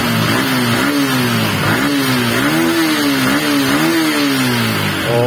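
A Yamaha Sniper 150 motorcycle engine with delayed pickup, after a one-tooth sprocket adjustment, revs up and down repeatedly, rising and falling in pitch, loud and close with no talking.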